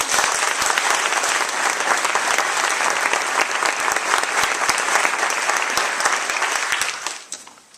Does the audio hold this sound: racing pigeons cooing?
no